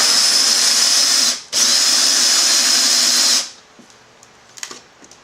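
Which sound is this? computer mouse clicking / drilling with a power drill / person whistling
drilling with a power drill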